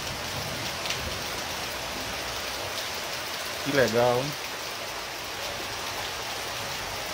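Steady rain hisses evenly throughout in Macaúbas, Bahia, with a voice speaking briefly in the middle over the constant downpour.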